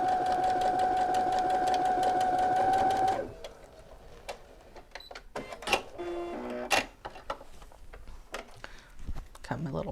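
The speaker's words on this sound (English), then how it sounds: "I'm going to sew this on there" A sewing machine stitches a quilt seam in a steady whirring burst for about three seconds, close and clear, then stops, followed by light handling clicks and rustles.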